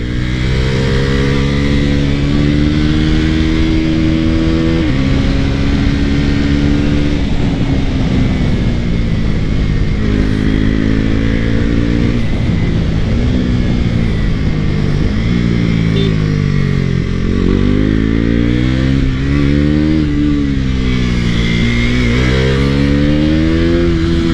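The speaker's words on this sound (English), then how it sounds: "I really love the sound that's making. Super throaty engine and exhaust note." A naked motorcycle project bike on its first ride, with a throaty engine and exhaust note revving up and down in repeated sweeps, loud, close and continuous with no talking.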